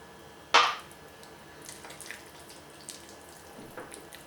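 Water is poured into a chicken filling for a tray-baked sini kebab: one short, bright splash, then only faint kitchen quiet.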